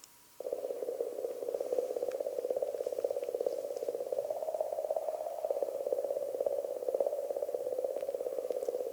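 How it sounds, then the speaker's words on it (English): Comet plasma oscillations recorded by the Rosetta mission and converted to sound make a continuous warbling, croaking drone with a fast pulsing texture, steady and fairly faint throughout after a brief quiet start. "this is what a comet sounds like from 500 million kilometres outside the asteroid belt"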